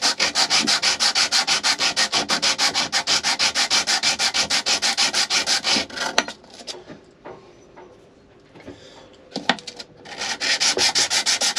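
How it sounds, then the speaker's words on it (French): Abrasive cloth of 120 grit rubbed over a flat part of a Yanmar 1GM10 marine diesel engine: close, steady rapid back-and-forth sanding strokes for about six seconds, a quieter pause with small scrapes, then the rhythmic rubbing resumes. "Donc là je suis au 120. Je vais me mettre sur une partie plane et puis je vais le gratter."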